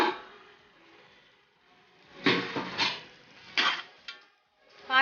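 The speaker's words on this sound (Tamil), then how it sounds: "மூடியை ஓப்பன் பண்ணிடலாம்." A metal lid comes off a biryani cooking pot with a few close clinks and clatters, short knocks spread across a quiet kitchen.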